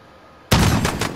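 A single loud, close blast of gunfire during a gunfight, a shotgun loaded with buckshot, that erupts after brief quiet and rings out with a rough, rumbling tail.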